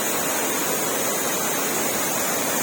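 Mae Pan waterfall in Chiang Mai, a tall series of cascades in forest, gives a dense, steady roar of falling water that fills the whole clip at even loudness, close and loud, with no voices.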